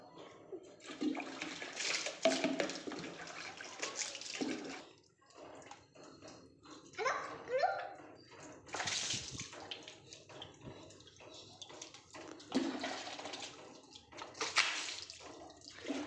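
Water splashes and pours in uneven bursts over a bicycle being washed, rising and falling, with quieter dripping between the louder gushes.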